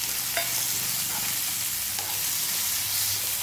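Chopped capsicum and tomato frying in a pan for a wheat vermicelli breakfast, a steady close sizzle with soft stirring scrapes throughout.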